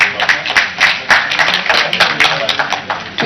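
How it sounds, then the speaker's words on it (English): Audience applause for a panel at a National Assembly of Zambia event, a dense burst of many hands clapping in ragged, fluttering waves that stays loud and close for the whole stretch. "A round of applause, please,"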